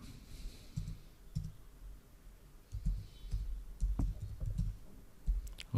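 A computer mouse and keyboard make faint, close clicks and taps, spread unevenly over a few seconds against a low background hum.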